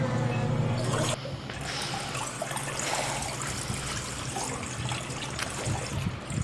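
A washing machine refilling with water, a loud steady rush of inflowing water close by that drops slightly after a second and keeps running with small clunks.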